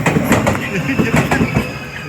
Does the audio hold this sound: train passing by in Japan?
yes